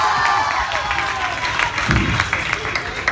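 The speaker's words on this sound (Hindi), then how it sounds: "एक बार इनके लिए जोरदार ताली हो जाएगा।" An audience at a Kolkata dance show applauds the choreographer with clapping and some cheering, a lively crowd wash with a few louder shouts and a low thump partway through.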